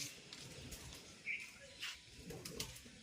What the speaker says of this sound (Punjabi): ਖੁੱਡੇ ਚੋਂ ਇੰਨੇ ਕਬੂਤਰ ਨਿਕਲਦੇ ਆ